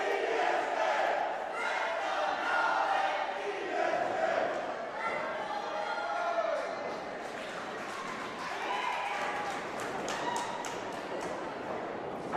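A wrestling crowd at a Pro Wrestling event chants in two rival groups for VSK and Nolan Pierce, with rhythmic claps and stomps building toward the end. The whole room is loud and sustained, with the chant's voices carrying across the full stretch.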